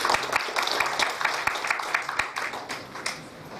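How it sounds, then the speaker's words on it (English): An audience at a mental health promotion conference gives a steady round of applause. Moderately loud, fairly even clapping with scattered sharper claps runs throughout and eases slightly near the end. "I think we should give Jonathan a round of applause"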